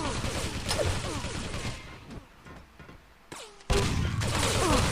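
Shotgun blasts and match gunfire in a Quake team deathmatch final, a loud, continuous battle din with sharp bursts near the start and a heavy blast resuming near the end.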